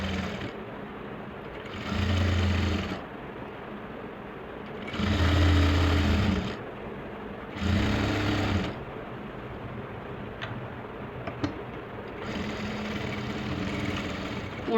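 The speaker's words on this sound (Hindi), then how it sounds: "कमर के पास आने के बाद हमें यहाँ पे गोलाई में सिलाई लगानी है" A sewing machine stitching a suit lining in a curved seam near the waist runs in three distinct loud bursts of rapid whirring, separated by quieter pauses, then starts a lighter, steadier run near the end.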